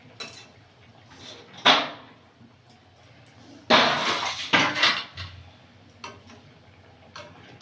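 A lid lifted off a pot of simmering curry in a village kitchen, heard as a few sharp metallic clanks and knocks spaced apart, with quiet stretches between them.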